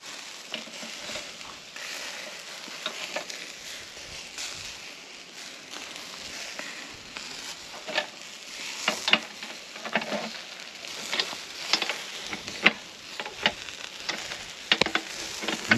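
Lula kebab meat sizzles steadily on a hot charcoal grill, a continuous crackling hiss with scattered sharper pops, close by and without talk.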